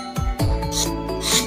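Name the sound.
steel knife blade slicing a sheet of paper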